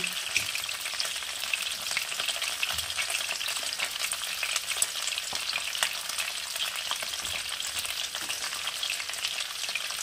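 Potatoes and cauliflower fry together in a pan, a dense, even sizzle holding steady and close for the whole stretch with faint stirring scrapes, no talk.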